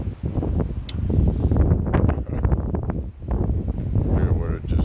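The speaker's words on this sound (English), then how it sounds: "You get the impression it's breezy out here?" Strong outdoor wind gusts buffet the microphone in heavy, rumbling surges, with talking mixed through the roar.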